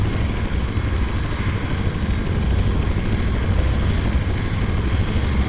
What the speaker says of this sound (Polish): Oddalmy się od tego helikoptera, żeby go nie było słychać.